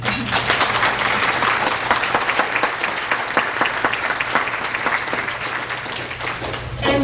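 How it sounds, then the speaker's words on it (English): A conference audience at a Pompe disease patient meeting gives a steady round of applause, many hands clapping in a full, even wash with a faint low hum underneath. "can we give them all a round of applause"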